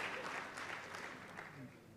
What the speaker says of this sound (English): they deserve a big round of applause, ladies and gentlemen